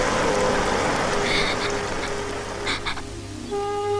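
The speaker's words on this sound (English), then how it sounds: "Yes, it's raining." Steady rain falls continuously, a dense hiss of drops on a surface, with a low hum underneath and a few faint tonal sounds near the end.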